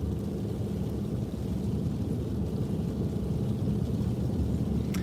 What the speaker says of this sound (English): No, that sound is sleet.